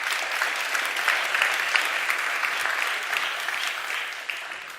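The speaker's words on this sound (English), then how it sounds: "So a quick round of applause for them" A conference audience gives a steady round of applause for mayors in a city partnership. It is a dense, even wash of many hands clapping at moderate distance, with no talking over it.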